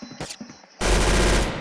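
Dense automatic gunfire from a Roblox Arsenal match bursts in loud and sustained after a short stretch of lighter clicks and game sounds, continuing as a steady rapid rattle to the end.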